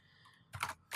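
Typing on a computer keyboard, a quick pair of close key clacks after a brief quiet moment, no voices.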